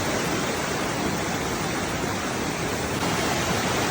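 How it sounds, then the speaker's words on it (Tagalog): Strong floodwater rushes through a farm, roaring continuously, a loud broadband torrent with no pauses, close by. "Lakas ang tubig."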